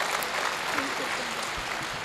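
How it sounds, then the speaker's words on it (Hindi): A seated audience at a Hindi poetry gathering claps steadily, a dense, even patter of hands throughout, with a voice speaking faintly beneath it. "ये तालियां जरा बढ़ा दें तो मैं सुरेंद्र शर्मा जी को आमंत्रित करूं।"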